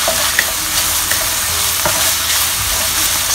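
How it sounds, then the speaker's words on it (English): Pork and Thai basil leaves stir-fry in a hot pan, giving a loud, steady sizzle with scraping stir strokes throughout, close by. "add in the Thai basil leaf. Get all the flavor in, cook them until they wilt off."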